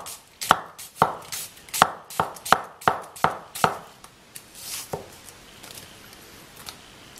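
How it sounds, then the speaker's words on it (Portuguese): An onion is chopped with a handmade Chinese cleaver on a cutting board, giving about ten crisp, evenly paced knife strikes close by, then a few softer taps trailing off into quiet. "Então vou cortar essa cebola aqui para mostrar para vocês."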